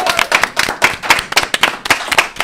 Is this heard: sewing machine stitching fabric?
no